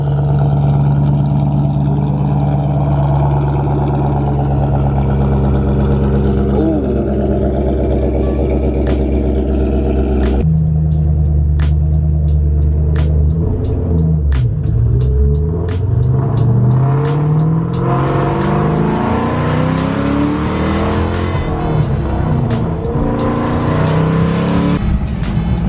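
A pulley-modified Ford Mustang Cobra engine runs loud and close, a deep rumble that changes pitch partway through and rises into revving, with a faint supercharger-like whine.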